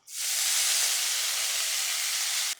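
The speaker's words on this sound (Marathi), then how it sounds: "कढई तापायला ठेवली आहे त्यात चमचाभर तेल घेतलं आहे त्यामध्ये घालायची मेथी" A loud, sudden burst of sizzling as chopped fenugreek leaves hit hot peanut oil in a kadai, a steady hiss that holds for over two seconds, then cuts off abruptly.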